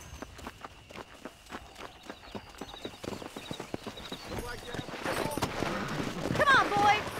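Horse hooves in Red Dead Redemption 2, a steady clip-clop that quickens from a walk into a faster gallop, close and clear, with a voice speaking near the end.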